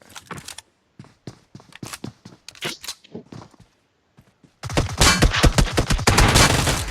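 Rapid gunfire in a shooting video game, first sparse bursts of sharp shots with gaps, then a loud continuous volley of fast automatic fire for the last couple of seconds.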